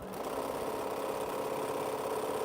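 A sewing machine runs steadily while stitching rows of a Scattered Stars quilt, giving a continuous mechanical hum and rapid needle chatter at close range.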